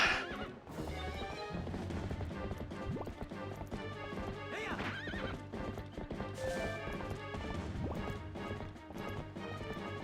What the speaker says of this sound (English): So not only are you going to ride your horse